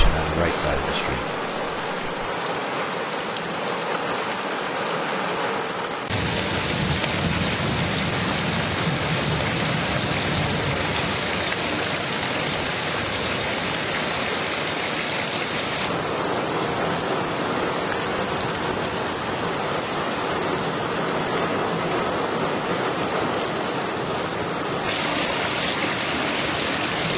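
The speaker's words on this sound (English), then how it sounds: "Once the rain begins" Steady, heavy rain pours onto a street during a storm, running past a drainage inlet filter at the roadside; the dense hiss continues without break from start to finish.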